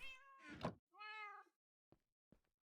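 A cat in the video game Minecraft gives two clear, close meows, followed by a couple of soft thunks, with no talking.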